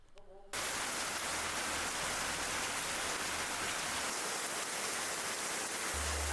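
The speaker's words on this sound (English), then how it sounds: "it rained almost the entire time" Steady rain pours down in Kerala's hilly Idukki region, a dense, continuous hiss of drops beginning abruptly after a brief quiet moment and holding loud and even throughout, with a low rumble near the end.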